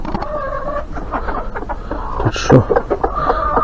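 Hens clucking in a hen house, soft busy clucks close by under a brief spoken question and ongoing rustling.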